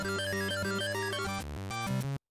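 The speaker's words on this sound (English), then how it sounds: "You might think of MIDI as music played in a browser that sounds like this." Simple synthesized MIDI tune of the kind played in a web browser, with bright, evenly stepped notes over a steady low accompaniment, playing continuously before cutting off abruptly.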